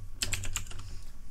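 A quick run of four or five keystrokes on a computer keyboard, close and crisp, lasting under a second before settling into a quiet hum.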